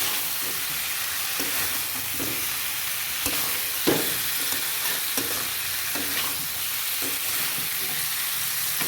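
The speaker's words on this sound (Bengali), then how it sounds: "ভালো মতো মিশিয়ে নিচ্ছি মশলাটার সাথে ডিমটা।" Eggs being stirred into frying masala for a Bengali-style egg curry, a continuous hissing sizzle with repeated spatula scrapes and knocks against the pan at a steady, unhurried pace.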